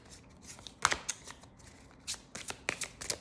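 A deck of oracle cards being shuffled by hand, a run of crisp riffling bursts and soft flicks at an irregular pace, close and fairly quiet, with no talking.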